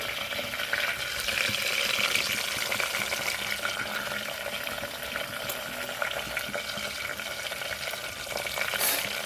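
Onion pieces sizzle steadily in a pan for papaya pulao, a dense, even frying hiss at close range that holds without pause for the whole stretch.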